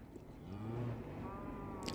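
Sheep bleating in the Minecraft survival game, one drawn-out bleat in the middle with a faint further call near the end, playing under quiet background game sound.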